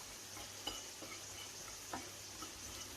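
Food stirred in a pan over a soft, steady sizzle, with a few faint scraping strokes spaced about a second apart.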